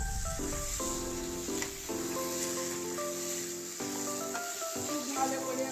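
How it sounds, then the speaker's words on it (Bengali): Fish pieces being stirred with salt and spices in a hot frying pan, a steady close sizzle and crackle of frying throughout with faint scraping. "এবার খুব ভালো করে সব মশলার সঙ্গে আমি নেড়ে নেব।"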